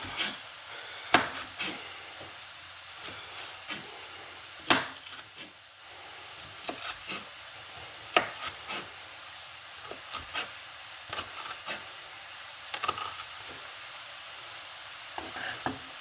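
A kitchen knife chops vegetables on a cutting board for a breakfast burrito, with sharp, fairly close cuts at an uneven pace, separated by pauses and by softer handling noise.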